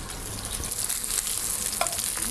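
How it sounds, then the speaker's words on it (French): A sea bass fillet pan-fries skin side down, giving a steady, close, even sizzle that fills the whole stretch with no voices. "On va laisser colorer la peau, ensuite on va baisser le feu, on va retourner et on va finir de cuire."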